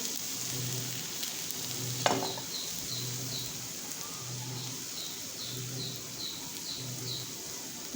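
A raw potato snack sizzles softly and steadily on an oiled tawa, with one sharp clack early on and faint repeated chirps in the background.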